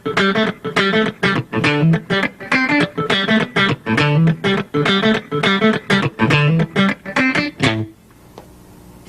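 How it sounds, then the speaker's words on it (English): Electric rhythm guitar hammered very hard with a heavy pick, strings popping percussively in a fast, tight strumming pattern of chopped chords, loud and close with no talking, then abruptly muted to near silence. "playing very, very hard to get a really percussive pop out of your strings with a pick"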